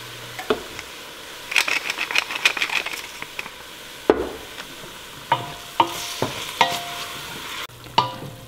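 Peruvian soup base for sopa a la minuta, seasoned with salt, cumin and pepper, cooks in a pot while being stirred, giving a soft steady sizzle broken by sharp spoon-against-pot scrapes and clinks.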